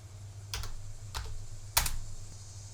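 A few brief bursts of computer keyboard typing, light and close, with pauses between short key clusters over a low steady hum.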